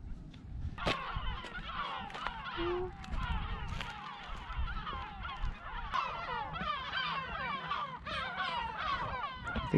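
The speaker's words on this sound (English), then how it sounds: "the seagulls are taking exception to us coming on their island" A noisy colony of seagulls calls on a small Mediterranean island, many overlapping harsh cries and squawks from birds disturbed by visitors landing, fairly close and continuous over wind and low background rumble.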